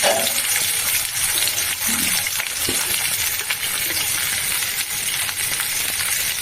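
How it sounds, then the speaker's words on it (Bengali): Large-cut potatoes frying with salt and turmeric, a steady bright sizzling hiss that fills the whole stretch at an even level, with occasional faint stirring knocks beneath it. "লবণ আর হলুদ দিয়ে ভাজবো, একটু লবণ হলুদ দিয়ে দিই"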